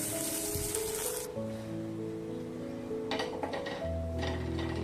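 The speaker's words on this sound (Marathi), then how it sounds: "भाजी मस्तपैकी फ्राय झाली आहे" Vegetables frying in oil give a soft, steady sizzle with a burst of hissing at the start, then quieter crackles, while background tones and household noise run underneath.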